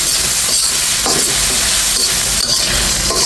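Onions cooking in a pan with water added are stirred, producing a loud, continuous sizzle and bubbling hiss with scraping strokes of the spoon close up and no voices.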